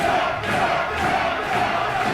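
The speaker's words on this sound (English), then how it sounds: "Crowd getting riled up now." A wrestling arena crowd roars and yells steadily during a casket match, a dense, loud wall of cheering and shouting that stays constant throughout.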